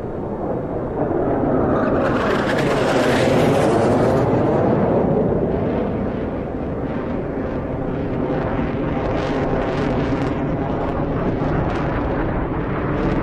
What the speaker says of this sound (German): Hört ihr das? Flugzeug?